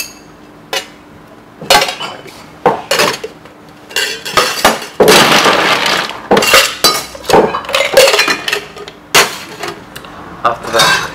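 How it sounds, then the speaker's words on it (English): A bartender at Copperbay in Marseille muddles cherry tomatoes and fresh rocket in a metal cocktail shaker for a Roquettini, making loud, close, irregular clanks and grinding thumps. The strokes come in quick bursts with brief pauses, and no voice is heard over them. "we muddle everything on the shaker"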